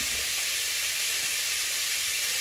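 Beef frying in a pan with a steady, loud, bright sizzle that runs unbroken throughout, with no talking over it.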